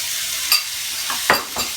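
Vegetables with freshly added chopped tomato sauté in a pan for a Jamaican ackee and bacon quiche, making a steady close hiss broken by a few quick spatula stirs.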